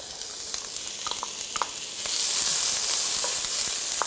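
Olives frying in a hot pan, a steady close sizzle with light occasional pops and crackles that swells louder midway, as if freshly stirred.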